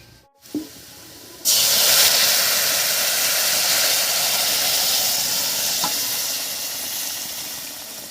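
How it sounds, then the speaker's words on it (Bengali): Boiled lentils and pumpkin dropped onto fried onion tempering burst into a loud, sustained sizzle that fades only slightly over several seconds, following a brief clatter. "ফোড়নের উপরে পেঁয়াজটা একেবারে লাল লাল হয়ে গেছে এবার সেদ্ধ করে রাখা ডাল আর মিষ্টি কুমড়োটা দেবো"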